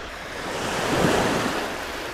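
Sea waves washing onto a beach at low tide, a steady broadband surf roar with a gentle swell in the middle, mixed with wind noise and no voices.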